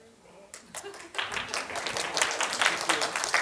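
Scattered audience clapping at a talk on ABA intervention, picking up after the first second into a moderate, uneven patter of many hands, with a low murmur of voices underneath.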